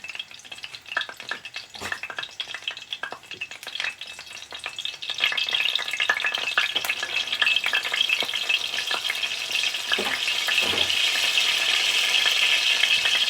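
Eggplant omelette made with salted egg frying in oil, a close, continuous crackling sizzle that grows denser and louder partway through, with occasional utensil taps.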